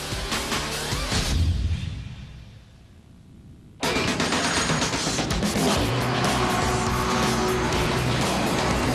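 Off-road race vehicles roar loudly in the 2009 Lucas Oil Off-Road Racing Series, Round 4 at Surprise, Arizona, with dense engine noise that dips briefly, then surges back to a constant close, full roar.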